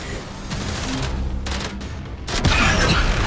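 A cruise ship's reactor blows up in the video game Warframe, heard as a dense rumbling burst of rapid explosive cracks and booms that surges louder toward the end.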